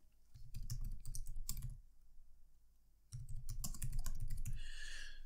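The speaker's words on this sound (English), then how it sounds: "So let's type that in." Typing on a computer keyboard while entering an answer in a cybersecurity training exercise: two bursts of rapid, close key clicks separated by a short pause, with no voices.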